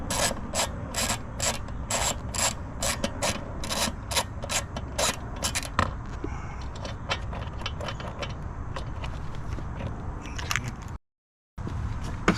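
A 10mm socket ratchets out a rear fender bolt on a Honda Navi, a quick run of sharp clicking strokes at close range, followed by softer rubbing and handling noises.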